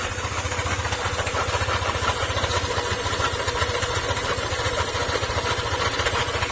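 A motorcycle engine idles steadily close by with its pulley removed, a continuous low rumbling putter with an even, rapid pulse and no other sounds.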